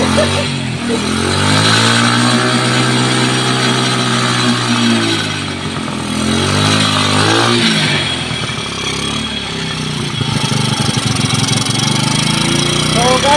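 A Honda Wave 100 motorcycle suffering an electrical fault is kickstarted and settles into a steady, close, loud idle, with brief speech over the engine partway through.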